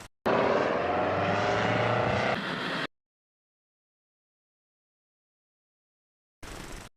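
Osprey tiltrotor aircraft on a 1991 test flight, a loud steady engine and rotor roar for a couple of seconds that cuts off abruptly into silence, then a brief noisy burst at the end.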